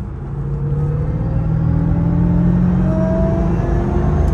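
A car engine rumbles loudly close by, its pitch climbing and settling through a throaty rev with a deep steady drone underneath and no voices.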